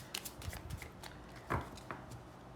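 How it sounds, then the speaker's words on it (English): Tarot cards are shuffled by hand in a quiet room, giving soft, papery riffles and taps that come in uneven bursts, close and faint. "Oh, this is the last shuffle."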